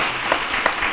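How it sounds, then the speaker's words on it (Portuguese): A brief burst of dense clapping from a prayer-group congregation welcoming first-time visitors, loud and close, with no talking. "vamos dar uma grande salva de palmas para essas pessoas que estão vindo pela primeira vez"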